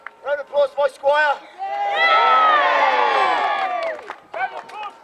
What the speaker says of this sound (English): Round of applause, my squire.